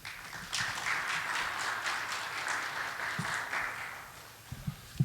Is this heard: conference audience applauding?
yes